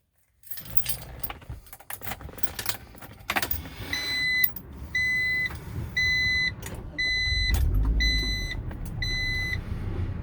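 A 1992 Acura Vigor GS starting up: keys jangle close by, a chime beeps repeatedly, and then the engine turns over and settles into a steady idle for several seconds.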